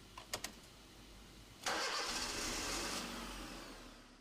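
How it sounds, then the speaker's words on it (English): A car engine cranks and catches after a few faint clicks, then settles into a steady, fairly loud idle with the transmission in park or neutral; no one speaks. "start the engine"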